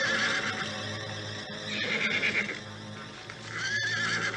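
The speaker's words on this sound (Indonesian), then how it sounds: "siapkan 6 ekor kuda yang terbaik" Horses whinny loudly and close by, several drawn-out neighs over a steady clatter of hooves in a period drama set in old Mataram.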